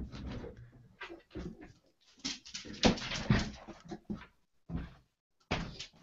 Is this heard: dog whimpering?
yes